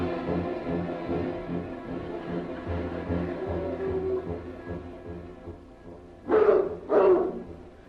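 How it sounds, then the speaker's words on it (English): Two loud barks from pursuing dogs come close together near the end, after several seconds of low rumbling background noise, in an old-time radio comedy episode. "The dogs are catching up with us!"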